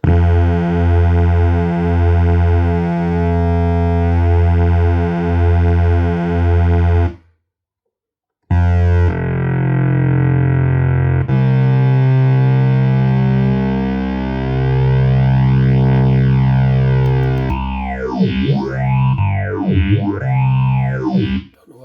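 Black Pill single-oscillator synth playing a fat patch of two detuned saw waves through a phaser, long buzzing held notes with a brief silent break, then sweeping phaser swirls growing stronger toward the end, loud and alone.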